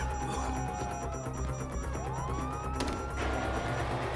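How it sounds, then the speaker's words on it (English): Police sirens wail continuously in a Grand Theft Auto game scene, rising and falling over a constant rumble of vehicle engines and traffic, with a sharp burst of noise near the end. "You hear that? Sirens!"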